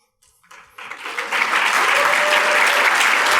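Applause from the audience at the SoulFire Faith Conference for the planning committee members: scattered claps start quietly, then swell within a second into loud, sustained clapping from a large crowd.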